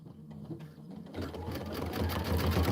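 An Aveneer Lumina sewing machine stitching a quilt, a quiet start that breaks into a fast, steady mechanical whirring and needle rattle, close by and growing louder.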